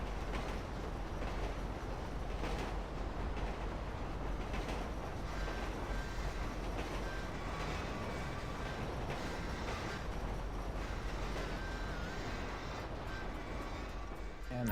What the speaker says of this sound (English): Look at our pretty little train.